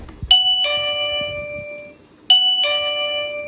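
Two electronic ding-dong doorbell chimes ring out clearly, each a bright two-note tone that lingers and fades, with the second starting about two seconds after the first.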